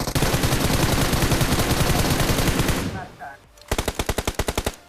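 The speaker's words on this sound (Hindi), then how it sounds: "अब यहाँ पर भैया पॉल को तो गोलियां पड़ती गई, लेकिन पॉल की गोलियां उस बंदे को नहीं पड़ी।" Sustained rapid machine gun fire in the BGMI battle royale game, loud and dense for about three seconds, then a short lull and a final burst of distinct evenly spaced shots.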